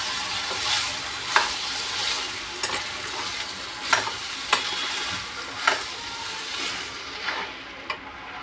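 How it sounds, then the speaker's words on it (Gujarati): Rice being stirred in a pan for Maggi rice, a soft steady sizzle broken by repeated scrapes and clacks of the spoon against the pan, close and moderately quiet, with no voices. "આપણે તેને હલાવી લઈએ."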